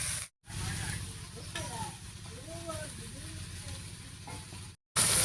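Bathua greens are dropped onto potato and tomato frying in a pan, giving a steady close sizzle with faint voice-like sounds mixed in, framed by brief silent gaps at start and end.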